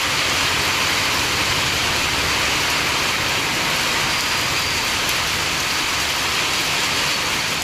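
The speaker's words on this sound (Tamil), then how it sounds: "குறிப்பாக தருமபுரி சுற்றுவட்டார பகுதிகளில் கனமழை வெளுத்து வாங்கியது." Heavy summer rain pours down in Dharmapuri, a dense, constant hiss of a downpour that stays loud and unbroken with no voices.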